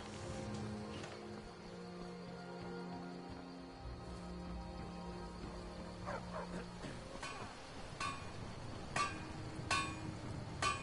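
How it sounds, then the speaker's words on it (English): A dog in the video game Skyrim barks with a few short yips and whimpers amid game ambience and music, mid-distance and moderately loud, followed by a handful of sharp clanks. "Stupid dog."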